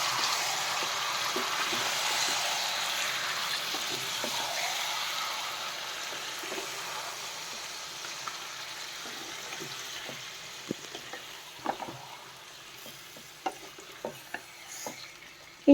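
Marinated chicken for a poppy-seed (posto) chicken dish frying gently in a pan over lowered flame, a steady broadband sizzle that slowly fades, with scattered clicks and taps of a utensil toward the end; no talk.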